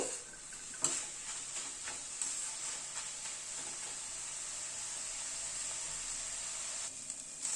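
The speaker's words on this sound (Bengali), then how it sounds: "এবার মোচাটাকে আরেকটু কষিয়ে নেব" Banana flower with boiled chickpeas and a spoonful of sugar is sautéed in a pan, giving a steady, moderate hiss of frying. Occasional light clicks and scrapes of stirring sound over it, with no voices.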